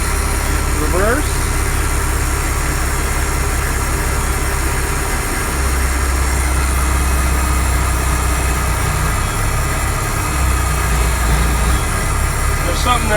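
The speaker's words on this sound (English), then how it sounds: "It seems like the clutch is slipping though." Vehicle engine running steadily in reverse with a slipping clutch, a loud continuous low drone with a slight wavering throughout, close by, with some speech over it.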